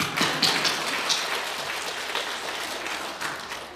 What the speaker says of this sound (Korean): 박수 한번 볼까요?